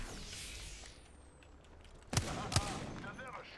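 Two sharp sniper shots crack out close together in Apex Legends gunplay, each a loud broadband hit over steady game ambience, with a faint whistling sweep earlier in the clip.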